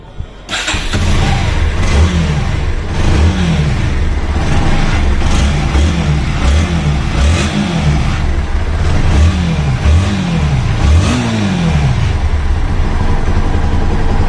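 A second-hand Bajaj Pulsar NS160 motorcycle engine runs steadily up close, a continuous throbbing mid-pitched hum with a slightly wavering beat that starts abruptly and holds without talk.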